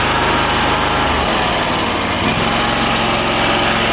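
A 439cc V-twin engine on a cheap machine runs steadily and loudly up close, a dense continuous drone with a slight shift in tone partway through, no talking.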